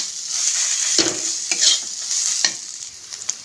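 Cumin powder is stirred into vegetables frying in a pan: a steady bright sizzle runs throughout, broken by a few sharper scraping strokes of the spoon, close and moderately loud with no voices.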